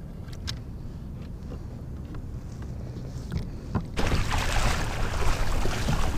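A southwest wind blows over the ocean during kayak fishing, a low rumbling buffet that strengthens abruptly partway through into a louder, broad rushing roar with splashy water texture.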